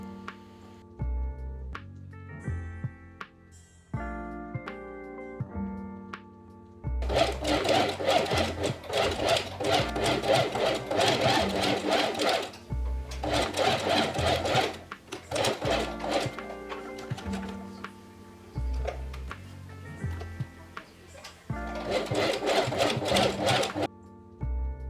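A home sewing machine stitches summer blouse pieces, starting with short stop-start bursts and then settling into long steady whirring runs with brief pauses. The sound is close and loud, with no talk over it.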